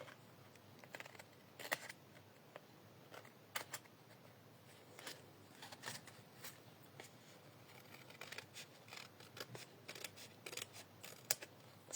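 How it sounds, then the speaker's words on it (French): Close, quiet snips of scissors trim excess paper off a folded accordion easel card, with irregular crisp cuts and light paper rustling over a low background hum. "On va couper ce qui dépasse."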